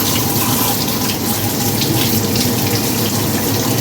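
Tap water runs hard into a sink while fish is washed and scrubbed clean, a loud, close, unbroken splashing gush with no pauses.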